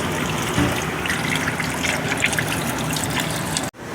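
Engine oil drains from the oil pan of a 2019-2021 Ford F-150 with a 3.5L EcoBoost, a continuous close splashing trickle of liquid that cuts off abruptly just before the end.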